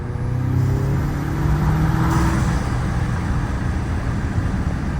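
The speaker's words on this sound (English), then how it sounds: "Hoping the camera picks that up, but we can go a little more throttle." An Audi S3 fitted with an Integrated Engineering air intake runs up under throttle, giving a loud, steady, close engine drone with a rising tonal edge early on.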